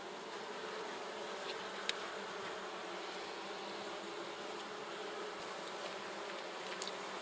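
Honey bees buzz steadily around an open hive, a dense continuous hum with a few brief sharper buzzes of individual bees passing close by.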